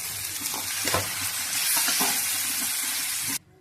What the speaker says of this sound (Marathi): आता याच्यात टोमॅटो टाकूया